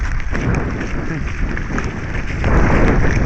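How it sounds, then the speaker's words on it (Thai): Heavy rain pours in a dense, continuous hiss that swells slightly louder toward the end, with no one speaking. "ฝนตกหมดฝุ่นแล้วแรงนี่"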